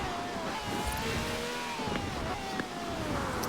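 A loud S2 car engine in a racing video game, a continuous droning rev that rises and falls steadily throughout, alone without talk.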